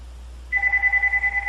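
A telephone ringing indoors with a rapid electronic trill, pulsing steadily for about a second, fairly close and alone.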